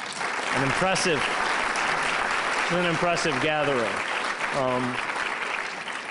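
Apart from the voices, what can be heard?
audience applause at a conference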